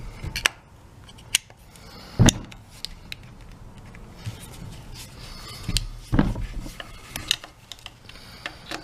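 Small metallic clicks, taps and a few louder clunks come from T20 Torx screws being undone on a Milwaukee Sawzall, spaced irregularly over a quiet workshop background.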